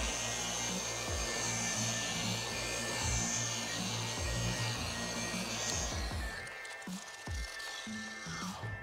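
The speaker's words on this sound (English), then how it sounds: "we're gonna put it on setting dos, two. And we're simply gonna spread the product around" Car paint polisher on setting two spreading polish across a car's paint, a continuous buzzing whir with a rubbing texture, steady and close before easing off and turning rougher near the end.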